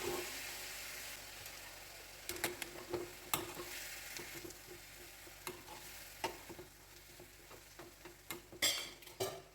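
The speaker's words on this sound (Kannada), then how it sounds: "ಬಾಳೆ ಹೂವನ್ನು ಹಾಕಿಕೊಳ್ಳೋಣ. ಎಲ್ಲವನ್ನು ಒಮ್ಮೆ ಚೆನ್ನಾಗಿ ಮಿಕ್ಸ್ ಮಾಡಿ" Banana flower curry is stirred in a pan, with scattered scraping and tapping strokes over a low sizzle, heard close with no talk.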